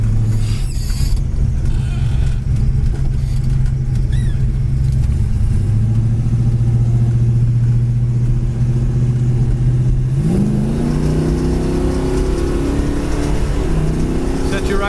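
A 1970 Plymouth Road Runner engine drones steadily from inside the car while driving, then its pitch climbs sharply as the car accelerates hard, with a loud, continuous rumble throughout.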